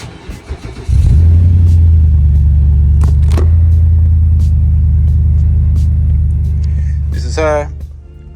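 A large V8 SUV engine cranks and fires up, settling into a loud, deep, steady idle rumble close by before dropping slightly near the end.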